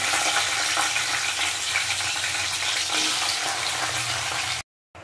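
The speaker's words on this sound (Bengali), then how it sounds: "ক্যাপসিকাম একটু ভেজে নেব।" Capsicum sizzling in oil in a kadai, a steady dense crackle and hiss held at even loudness, cutting out abruptly near the end with no talk.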